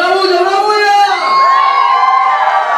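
A crowd at a fifteenth birthday party with a mariachi band whoops and cheers loudly, a continuous swell of shouting voices with high excited calls, close and sustained for the whole stretch.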